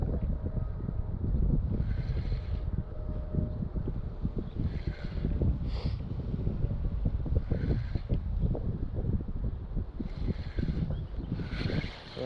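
Strong outdoor wind blusters and rumbles across the microphone during a fishing outing. The roar is steady and broadband, with gusty swells and no voices.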